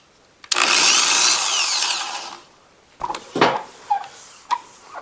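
Power tool polishing a C10 instrument cluster with compound: a loud, close whirring buff runs for about two seconds, then stops, followed by several short scuffs and handling knocks.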